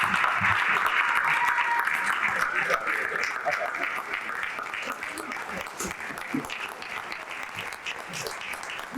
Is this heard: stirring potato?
no